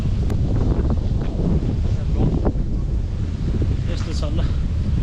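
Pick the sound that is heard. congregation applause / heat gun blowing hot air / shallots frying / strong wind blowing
strong wind blowing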